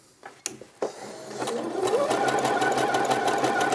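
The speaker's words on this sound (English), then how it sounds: "So select your zigzag stitch and go all the way around the bottom of your skirt." A sewing machine zigzag-stitching around a skirt hem: a few clicks as it starts, then a steady close whirring hum of the running machine with rapid needle ticking.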